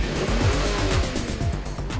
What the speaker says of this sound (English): The ZF gearbox drops down smoothly, the turbo whistles and the car rockets down the road.